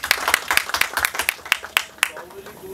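Scattered hand claps at a film's music launch event, sharp distinct slaps in a loose, quick rhythm, fairly close and moderately loud, thinning out toward the end.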